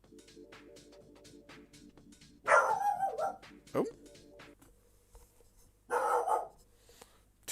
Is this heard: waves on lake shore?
no